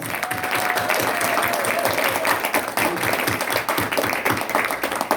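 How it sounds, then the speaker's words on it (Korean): A church assembly audience claps to approve its new leaders, with dense, continuous applause at close range and a faint murmur of voices beneath. "박수로 우리 추대해 주시기 바랍니다."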